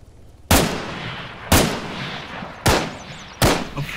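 Four sharp, loud gunshots crack out about a second apart in a video game, each a sudden booming blast that decays quickly, aimed at a helicopter pilot.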